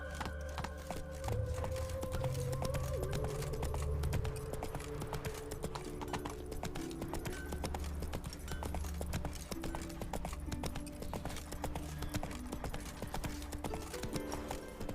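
A horse gallops in The Witcher 3: Wild Hunt, a fast steady clip-clop of hooves running close and continuous for the whole stretch, with no voices.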